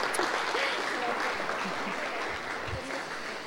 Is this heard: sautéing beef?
no